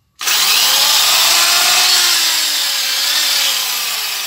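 A power drill powered by an Isuzu Panther car's electrical supply whines steadily and loudly after a sudden start, running continuously at a near-constant pitch with slight speed wavering.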